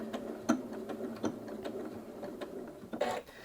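A Janome Atelier 7 Anniversary Edition sewing machine runs in short bursts, its needle mechanism clicking and whirring close up in a quiet room, with a few sharper mechanical ticks and a louder burst near the end.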